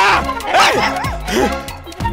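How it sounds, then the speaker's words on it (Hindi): A wild dog barks and yelps in quick, loud, close bursts, mixed with a man's alarmed cries. "अरे अरे रमा, एक कुत्ते ने मुझे काट दिया।"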